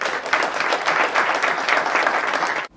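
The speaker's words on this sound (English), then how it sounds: "Give them a round of applause." An audience at a ceremony honoring an injured soldier gives a round of applause, dense, loud clapping from many hands that holds steady with no voices over it, then cuts off abruptly at the end.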